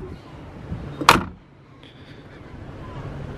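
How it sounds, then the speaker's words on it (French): A Mercedes G-Class 4x4² door slams shut once, a sharp heavy thud standing out against quiet background noise, followed by faint low rumble. "Je voulais juste déjà encore vous faire entendre ce claquement de porte."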